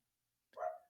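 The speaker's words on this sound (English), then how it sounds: "And you could probably hear my dog barking." A dog gives a single short bark about halfway through, fairly close and alone against silence.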